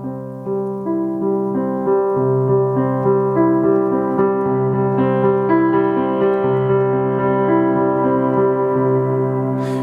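Piano played expressively, with flowing broken chords and a melody that swells and eases, notes blending into a sustained, legato texture.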